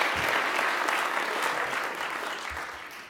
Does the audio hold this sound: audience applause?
yes